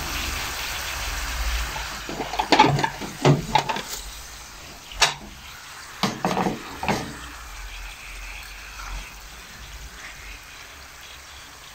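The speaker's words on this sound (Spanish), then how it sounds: "Cuando el aceite está caliente, la tortilla pues se fríe muy rápido." Tortillas sizzle in hot oil, a steady close frying hiss broken by scattered pops and clatters from a utensil as pieces are moved and lifted out.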